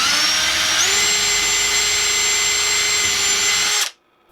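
A loud, close power drill driving screws into wood whines steadily for several seconds, its pitch rising slightly early on, then stops abruptly into silence.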